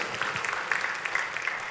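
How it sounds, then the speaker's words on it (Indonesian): A church congregation claps together in a short, brisk burst of applause, a crisp, fairly close patter of many hands at moderate loudness. "Tepuk tangannya boleh yang paling meriah buat Tuhan kita."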